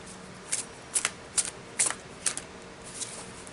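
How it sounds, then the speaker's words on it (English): Repeated crisp riffling bursts of oversized cards being shuffled, about six quick rustles spaced evenly apart, close and fairly loud with nothing else around. "These are a little big to shuffle."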